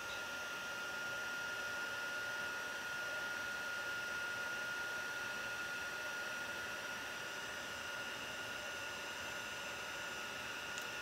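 A scrapbooking heat tool blowing hot air, a constant loud whooshing fan hiss with a steady high whine, unbroken and close for the whole stretch, with no talk.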